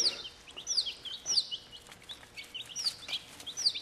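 Young chicks of Delaware, Buff Orpington and Wyandotte breeds in a brooder, peeping in a steady stream of high, quick chirps close by, with faint rustling underneath.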